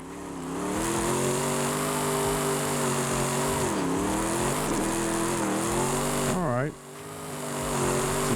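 A Cadillac CTS-V in Forza Horizon 5 holds a loud, steady engine drone with shifting pitch, then dips briefly and revs sharply back up near the end.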